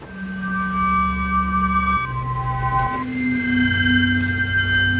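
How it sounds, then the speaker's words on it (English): An atmospheric crystal synth pad plays on its own, holding soft sustained tones that glide to a new chord every second or so. "I was hoping to be able to get some of the other crystal synths in there for ambience, because there was some cool atmospheric sounds"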